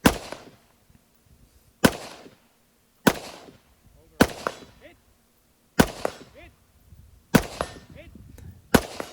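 Stgw90 rifle shots ring out at targets on a timed shooting stage, seven sharp cracks spaced one to two seconds apart, loud and close, each followed by a short echo and faint background noise between shots.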